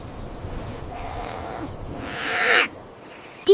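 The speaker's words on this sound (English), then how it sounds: "Barn owl." A barn owl gives two drawn-out, harsh screeching calls in a row, loud and close against a quiet background, followed by an abrupt sharp noise at the very end.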